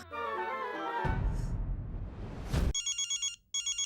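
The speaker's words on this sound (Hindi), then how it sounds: "देखो बबीता का फोन आया।" An electronic phone ringtone chirps in short repeated bursts after a melodic tone and a whooshing sweep, with no talking.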